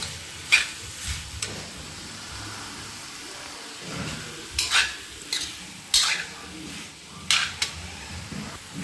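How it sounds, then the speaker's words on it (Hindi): Spoon stirring sambar masala into cooked vegetables in a pot, with soft scraping and a few sharp clinks of the utensil against the metal rim, spaced out over a faint sizzle. "सांभर मसाले को हम अच्छे से सब्जियों में मिक्स कर लेंगे"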